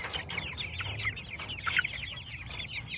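Several chickens, Cornish cross broilers, cluck and chatter in soft, overlapping bursts, with a faint low hum beneath the birds.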